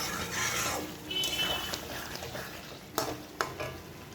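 Potatoes are stirred and fried in oil with spice paste in a pan, producing a faint, steady sizzle broken by a few sharper utensil scrapes and clinks against the pan.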